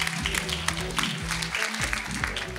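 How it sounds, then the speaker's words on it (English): Applause at a Miss Earth Australia pageant for a judge, a crowd clapping loudly and continuously in an indoor venue, with a voice talking underneath. "can we please hear it for Paul Burkett, who's the first initial judge here"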